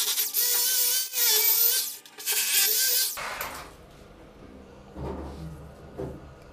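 A drill runs with a 6 mm bit into a hole during toilet and cistern installation. First comes a loud high whine with two brief pauses, then it drops to a lower grinding, scraping and handling noise.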